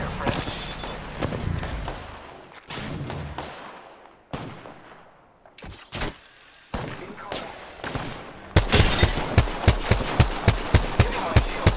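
Gunfire from a shooter game in Apex Legends, with a burst of rapid, regularly spaced shots hammering loudly near the end after scattered earlier blasts and impacts.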